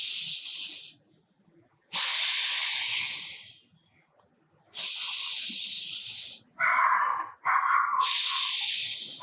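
Forceful breaths pushed out through the nose during alternate-nostril pranayama, four long loud hissing bursts of about a second or more each, separated by short quiet pauses, with one shorter breath near the end; no talking.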